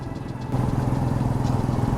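Motorbike engine while riding at around 60 to 65 km/h along a Mumbai road, a steady close mid-pitched hum with a rhythmic pulse that grows slightly louder halfway through, no talking over it.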